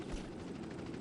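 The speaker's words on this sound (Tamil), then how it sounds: "ஹெலிகாப்டர் வந்துடுச்சு." A helicopter flying in the video game GTA San Andreas gives a faint, steady rotor whir with a soft rhythmic thrum, heard alone.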